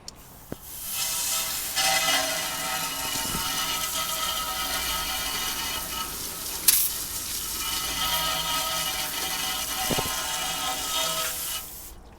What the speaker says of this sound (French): on va commencer le rinçage